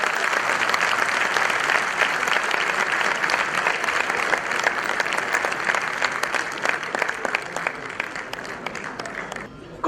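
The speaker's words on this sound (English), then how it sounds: "warmly welcome with a very thunderous applause our worthy President C.A.K. Raghu" Thunderous applause from a conference audience welcoming the ICAI President, a dense sustained roar of clapping from many hands that gradually thins and softens toward the end.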